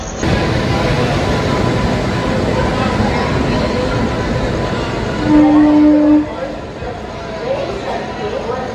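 Hampi Express, hauled by a Hubballi-shed locomotive near Gadag Junction, rumbles past with a steady rolling train noise, and one horn blast of about a second sounds midway.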